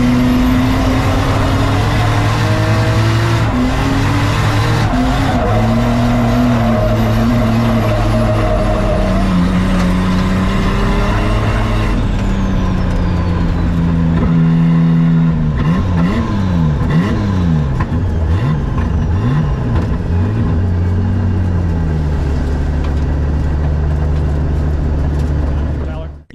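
Nissan S14 drift cars line up at a drift event, engines revving loudly with rising and falling pitch sweeps, while an announcer talks over the noise throughout.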